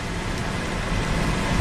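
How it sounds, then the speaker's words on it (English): Steady rain hisses on and around a car during rainy spring weather, forming a continuous broadband wash with no break or variation across the short stretch, and no voices can be heard. "Rainy spring weather."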